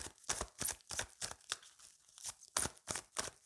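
Tarot cards are handled and drawn from a deck, giving a quick, even run of crisp papery snaps and flicks, close and fairly loud, with no voice over them.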